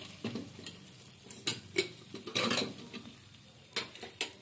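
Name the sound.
stirring spice masala frying in pan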